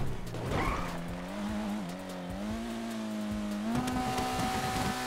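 A race car in GTA 5 with its engine whining steadily, then shifting up in pitch, while tires squeal and scrub on the pavement near the start. The motor drones on, loud and close.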